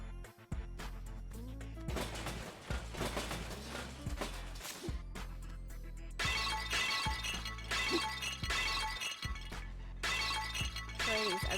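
Glass shattering during demolition in a train station renovation video game, a long stretch of dense, loud crashing and breaking bursts repeating almost continuously with brief gaps.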